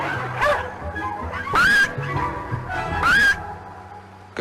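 A chihuahua, apparently in an animated film, gives a few short, high yips and barks, spaced apart and mixed with other sound effects.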